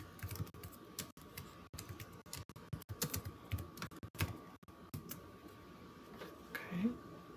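A command typed on a computer keyboard in a terminal, with irregular bursts of close, crisp key clicks and pauses between keystrokes, and a faint steady hum behind.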